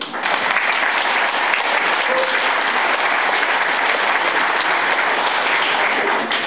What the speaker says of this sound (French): nous les applaudissons